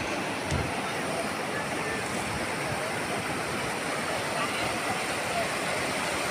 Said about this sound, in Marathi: हे हे पाणी आता जे वाहते हे थोडं जास्त आहे